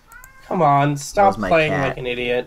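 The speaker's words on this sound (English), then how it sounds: "That's my cat down there." A pet cat meows several times in quick succession, loud and close, with a voice speaking over the cries.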